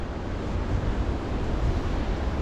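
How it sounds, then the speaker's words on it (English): Ocean waves breaking along the coast at Jongensfontein, South Africa, a continuous low rumbling wash of surf mixed with wind buffeting, steady and fairly loud with no voices. "just listen to the waves crashing"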